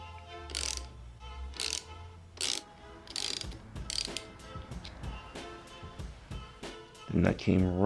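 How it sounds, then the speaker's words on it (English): A ratcheting wrench clicks in short repeated bursts while working a nut under a motorcycle brake lever, crisp close metallic ticks separated by pauses, with a voice talking over it. "You have a nut at the bottom of each lever. You could just put a hex key up here."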